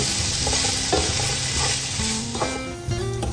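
Prawns coated in masala paste stirred in a hot pan, loud sizzling with repeated scraping spoon strokes, close up and continuous, no voices.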